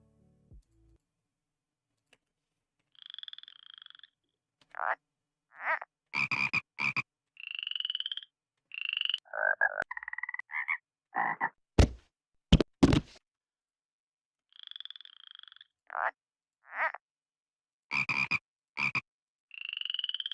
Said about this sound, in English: I want like frogs, you know, like a ribbiting when it starts.